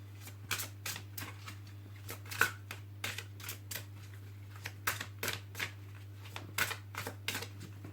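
Oracle cards shuffled by hand for a past-life reading, a quick run of crisp riffling flicks and taps in irregular bursts, close and fairly quiet over a steady low electrical hum, without speech.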